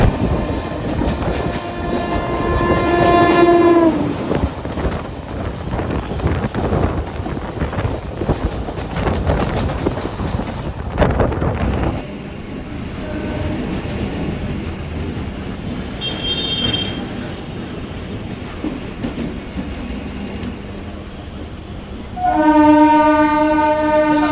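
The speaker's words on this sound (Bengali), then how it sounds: "তো ছেড়ে দিল আমাদের ট্রেনটি বিধাননগর রোড জংশন থেকে" A Sealdah to Dankuni local train departing Bidhannagar Road Junction rumbles and clatters along the tracks with steady wind noise, and its horn blares twice, once early and again near the end.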